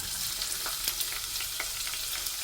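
Onions frying in hot oil in a pot on the stove for an egg stew give a steady, close sizzle with faint crackles and a few stirring clicks, and nobody speaks.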